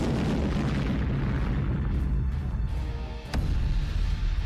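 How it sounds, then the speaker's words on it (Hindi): A missile explosion in news footage from a Polish village near the Ukrainian border gives a loud, sustained rumbling roar with a sharp crack near the end and no talk. "ये धमाका पोलैंड के शहर बुर्बियेशोव में हुआ।"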